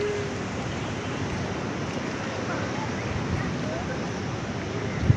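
Floodwater rushing through a flooded village street, a steady broadband roar of moving water and wind that runs unbroken throughout, with a brief knock right at the end.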